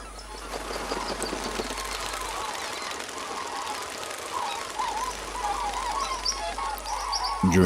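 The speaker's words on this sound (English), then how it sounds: "During the day, thousands of birds come here to feed." Thousands of birds feed across flooded grassland plains, a dense, distant chorus of overlapping calls and chirps forming a continuous wash of sound, with brighter calls rising toward the end.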